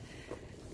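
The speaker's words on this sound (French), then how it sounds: "il y a un vent, il fait froid" Cold wind on the Camino Francés in Spain buffets the microphone in a steady, dull low roar, with no voices present.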